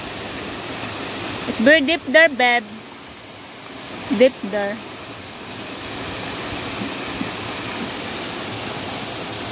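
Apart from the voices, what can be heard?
Taktak Falls waterfall flowing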